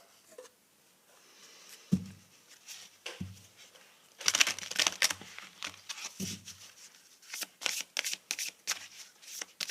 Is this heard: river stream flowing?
no